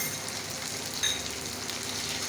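Onion and garlic paste fries with browned onion in a pan, giving a steady, close sizzle and crackle with one brief sharper spatter.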